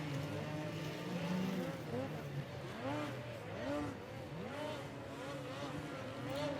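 Snowmobile engines at a snocross championship race, revving and whining loudly with repeated rising and falling pitch sweeps as sleds accelerate through a track section with jumps, under a steady crowd-and-track roar.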